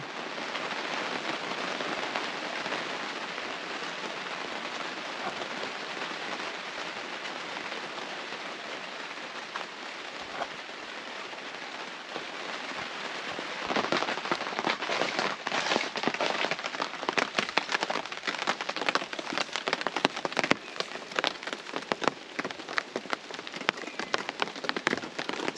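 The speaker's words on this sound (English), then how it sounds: "The rain is here." Steady rain falling around a deer-hunting camp, a dense even hiss of drops on surfaces that swells noticeably heavier and more pattering partway through, with no voices.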